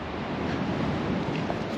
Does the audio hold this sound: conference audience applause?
no